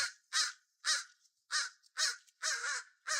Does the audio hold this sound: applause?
no